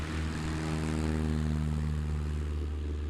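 Cub-type light aircraft engine during a STOL competition run, a steady droning propeller hum with strong low harmonics, continuous and moderately loud without talk.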